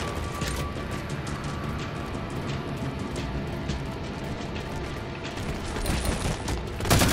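Rapid, sustained gunfire from a Halo 4 campaign firefight, dense overlapping bursts rattling continuously with a sharper blast near the end.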